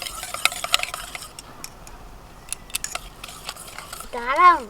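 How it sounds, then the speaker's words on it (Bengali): Cake batter of white cooking oil and sugar is beaten hard in a bowl, giving quick, uneven scraping and clinking strokes in bursts with quiet gaps; a voice speaks at the end. "আমি যেমন ফেটাচ্ছি এরকম ফেটাতে হবে জোরে জোরে"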